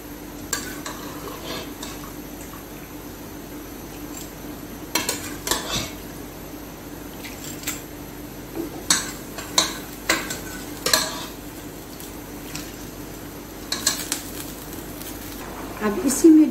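Beef and its broth from a pressure cooker are poured into a hot pot for salted onion gosht, then stirred. Metal utensils clink and scrape against the pot in scattered knocks over a soft sizzle, with talk in between.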